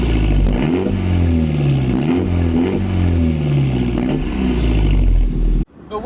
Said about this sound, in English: the exhaust note and the fact it pops and